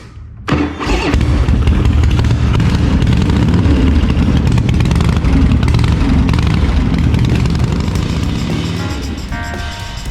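A 1984 Harley Davidson motorcycle, run without the choke, fires up abruptly after a brief silence and then runs loudly and steadily close by, easing off slightly near the end.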